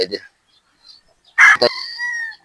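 A gamefowl stag, a Sweater bloodline bird, crows once loudly and close by, a drawn-out call with a brief break followed by a long, steadily fading tail, with quiet sounds before it.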